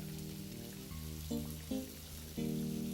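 Two tablespoons of aged wine vinegar sizzle with shallots in a hot pan for a green cabbage salad, a steady close crackle running under sustained background tones.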